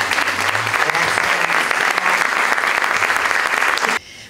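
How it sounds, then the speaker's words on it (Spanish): Loud, sustained applause from a seminar audience at a gender studies event, dense clapping filling about four seconds before cutting off abruptly into quieter room sound. "así que un fuerte aplauso"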